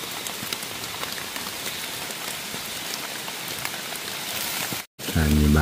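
Heavy rain pours steadily in a forest during mushroom foraging, a dense, close hiss of drops on leaves and surfaces that cuts off abruptly near the end, where a different sound takes over.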